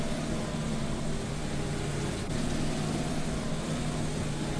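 Twin engines of a ZiL-135LM truck, one on each side at 7 litres apiece, in a Spin Tires mod, idle as a steady, droning low rumble with constant hum and no talking.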